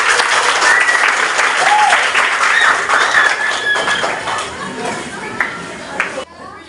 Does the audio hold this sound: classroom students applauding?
yes